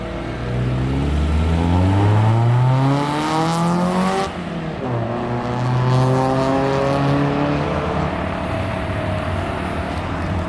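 A barn-find Honda CRX Si engine revs loudly and close up, its pitch climbing and falling through several sweeping rev cycles with a brief dip near the middle before rising again.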